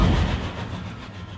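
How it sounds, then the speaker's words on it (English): A ghost train from World of Final Fantasy rumbles past, loud at first, then a continuous rolling roar that gradually fades. "There's no mistaking that for anything but a ghost train."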